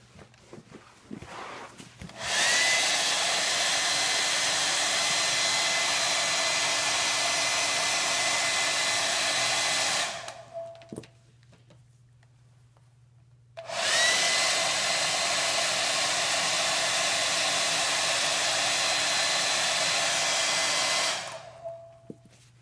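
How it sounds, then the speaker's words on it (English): A handheld hair dryer blows air upward beneath a levitating ping pong ball, a loud steady whoosh lasting about eight seconds, a short quiet pause, then a second equally loud steady blast of similar length. "If you place a ping pong ball directly above a hairdryer, the ball will stay levitated in the air."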